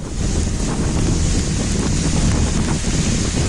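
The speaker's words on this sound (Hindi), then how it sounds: "ऐसा लगा जैसे तूफानी हवा जहाज को ही उड़ा कर ले जाना चाहती हो।" Cyclone Nisarga's storm-force wind roars at sea off Alibag near Mumbai, a loud, continuous buffeting rush with wave noise and heavy microphone wind distortion, no voices.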